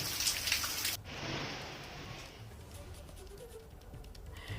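Steady rain falls in the mountains of Vikasnagar, Uttarakhand, a dense hiss of drops striking nearby surfaces. It starts heavier and bright, then settles into a softer, even patter.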